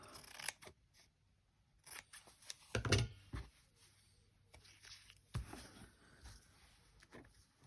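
Scissors cutting fabric for craft flip tags, close, soft snips and crisp clicks in an uneven rhythm with quiet pauses between them.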